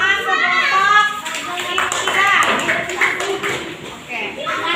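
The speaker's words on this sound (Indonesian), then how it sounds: "Tepuk tangan sebentar." Children in a classroom clapping their hands: loud rhythmic claps mixed with excited children's voices chanting and talking close by.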